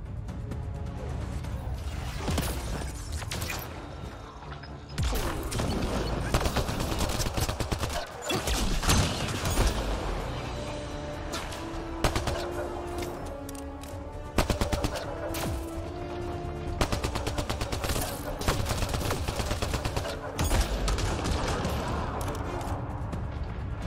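Gunfire in the video game Mass Effect Andromeda, with dense bursts of automatic fire and sharp single shots crackling continuously in a loud firefight.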